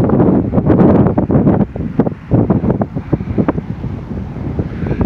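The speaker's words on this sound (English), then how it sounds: "there's a gust to about 15 or so" A strong wind gust buffets the microphone with loud, rumbling roars that surge and ease for five seconds as storm clouds roll into Bartlesville, Oklahoma.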